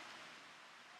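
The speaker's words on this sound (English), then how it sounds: "the sound of the waterfall in the background." Steady broadband rushing of a waterfall beside a backyard creek in Georgia, a continuous even wash of water with no voices, heard from a short distance.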